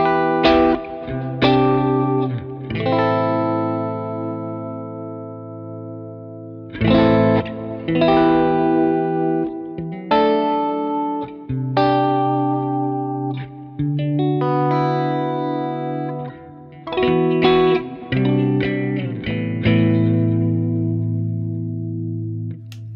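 Clean, chiming electric guitar chords ring out in bursts with pauses between, a bright shimmering tone with light modulation and some echo.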